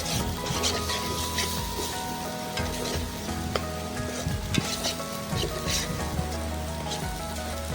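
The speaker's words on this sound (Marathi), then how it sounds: "सर्व मी आता परतून घेणार आहे मसाला." Masala sautés in a hot pan for chicken tikka masala, with a dense, constant sizzle up close and occasional scraping stir strokes, without any talk.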